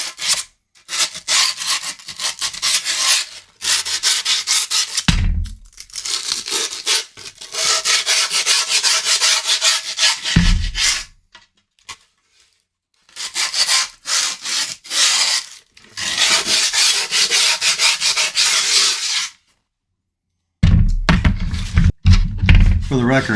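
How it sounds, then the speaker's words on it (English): Sanding and rasping on a skateboard deck, a Powell Flight deck, in long repeated scraping strokes broken by short pauses, loud and close, with occasional knocks as the board is handled. "Sand."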